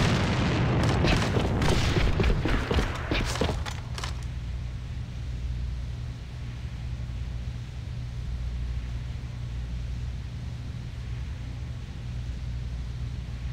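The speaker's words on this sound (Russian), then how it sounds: "Бросаю гранату!" A grenade blast in the video game M40 lands as a loud booming burst with several sharp cracks over the first four seconds, then fades into a steady low rumble of ambient noise.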